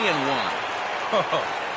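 Loud stadium crowd in a PS4 baseball video game roaring steadily beneath someone commentator's continuous play-by-play talk.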